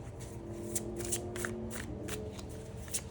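Tarot cards being shuffled by hand, a steady run of soft papery riffles and flicks with sharper card snaps recurring every half second or so, close and clear with no talking.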